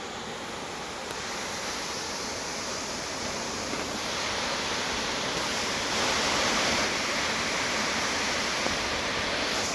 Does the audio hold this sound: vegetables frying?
no